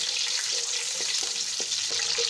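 Whole spices, cinnamon, cloves, black cardamom, bay leaf and cumin, sizzle and crackle in hot oil in a pot on a lowered flame, giving a steady close frying hiss with a few faint stirring clicks.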